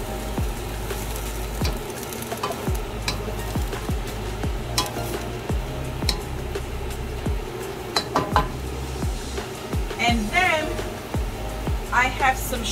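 Salmon chop suey ingredients stirred and scraped in a pan, with a steady sizzle of frying under repeated clinks and scrapes of a utensil against the pan, close up, with a person talking at times.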